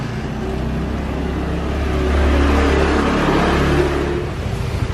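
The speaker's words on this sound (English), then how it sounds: "Dudes on bikes trying to figure out how to ride them" Motorbikes ride along a street in Bali at dusk, with a steady low engine drone that swells as a bike passes close and then eases off.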